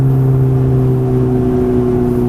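A Ferrari F430 engine drones steadily at a low, constant pitch while accelerating, loud and close, with no talking over it.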